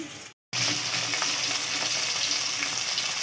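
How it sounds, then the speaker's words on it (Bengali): Eggplant slices frying in a pan of hot oil in a home kitchen, a loud, steady sizzle that runs continuously after a brief gap at the start. "দেখো এখন হচ্ছে বেগুন ভাজা"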